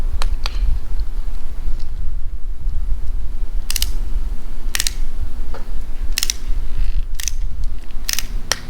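An Allen key tightens a bolt on a Rennline phone mount in a car, giving several sharp metallic clicks and ratchety ticks spaced a second or so apart over a low steady rumble, close by with no talk.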